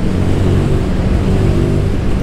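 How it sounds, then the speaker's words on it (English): A Royal Enfield Guerrilla 450 motorcycle engine drones loudly and steadily at speed, its hum blended with heavy wind rush, with no talking. "Whoa, nice revvy engine."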